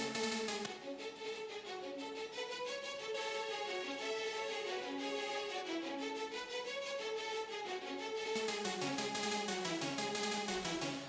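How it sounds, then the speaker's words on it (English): Orchestral track with fast, sharp short string spiccato layered with a bright, quick synth, played as continuous rhythmic ostinato figures over sustained harmony, loud and steady throughout with no talking. "You hear that hybrid spiccato?"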